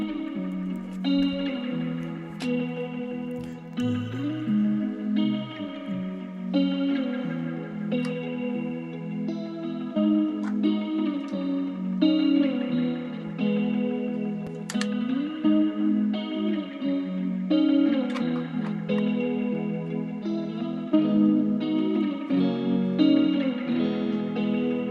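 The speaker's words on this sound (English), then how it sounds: "it's kind of more of a grungy sound. Echo Fuzz." Resampled guitars run through an Echo Fuzz effect, a thick, grungy, textured wash of distorted chords with chorus-like shimmer and echo, sustained and dense throughout with no pauses.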